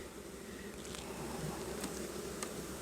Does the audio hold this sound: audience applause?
no